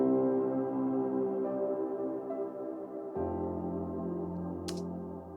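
Glass piano chords through Valhalla Shimmer reverb swell into a lush, shimmering wash, notes blurring together into a sustained, airy pad that changes once midway.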